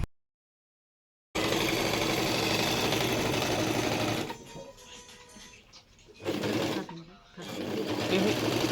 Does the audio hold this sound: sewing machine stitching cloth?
yes